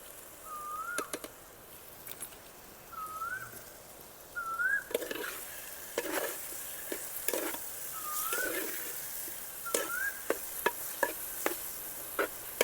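Mackerel brine stirred with chilli powder in a village kitchen, a series of wet scraping and clinking stirs with short sharp knocks, close up, while birds chirp repeatedly in the background.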